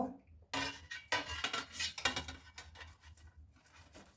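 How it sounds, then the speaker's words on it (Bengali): Paneer rubbed across a small grater in quick, uneven strokes with metallic scraping and clatter, close and fairly loud. "এর জন্য পনিরটা আমি গ্রেট করে নেব।"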